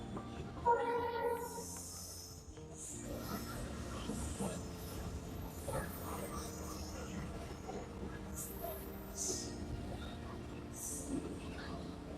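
A Dhaka–Joydebpur commuter train pulls out of a station with a rumbling, clattering roll and a brief whistle-like tone early on, moderately loud with people talking nearby.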